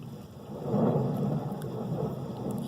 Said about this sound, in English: you get thunder